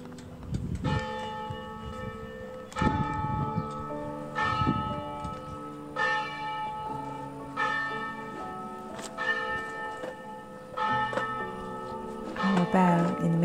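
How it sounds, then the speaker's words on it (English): A bell in a medieval village bell tower in Tuscany strikes the hour with about eight evenly spaced, resonant clangs, each ringing out and fading before the next. "Bell in the medieval bell tower strikes on the hour, on the half hour"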